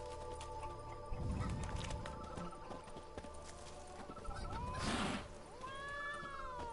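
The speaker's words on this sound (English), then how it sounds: "Good God, cat." A cat meowing in The Witcher 3: Blood and Wine on a vineyard estate, with a few short mews and rising cries amid hoof clip-clops and quiet game ambience.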